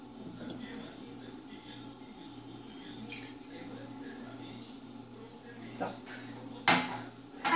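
A glass cup clinks twice as it is set down on a kitchen counter while a passion fruit mousse is being made, sharp close taps near the end over low background hum, with a person speaking.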